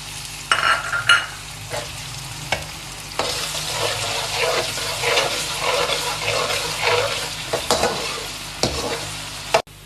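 Onions dropped into hot oil for mater pulao, a loud burst of sizzling and bubbling frying that settles into a steady crackle, with occasional stirring and pan clatter.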